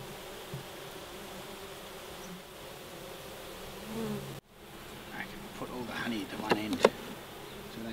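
Wild honey bees buzzing around a hive nesting in a bird box, a steady close drone of many insects, joined after a brief gap by louder, busier buzzing and a few sharp passes near the microphone.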